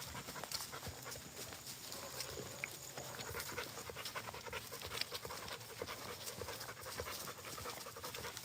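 A Rottweiler pants rapidly and continuously up close, a steady breathy huffing rhythm over faint outdoor background noise.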